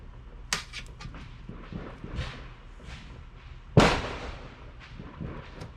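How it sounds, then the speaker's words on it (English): Fireworks are set off nearby, with several sharp cracks and pops scattered over the outdoor background and one louder bang partway through; there is no talking. "They are blowing those fireworks off."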